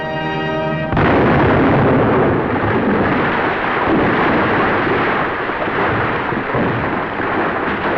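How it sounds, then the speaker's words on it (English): American troops blow up the Nazi Party emblem, and a deep, loud blast rolls on as a long, rumbling roar after a brief tonal hum at the start, in grainy archival sound. "In a symbolic gesture, American troops destroy the Nazi Party emblem."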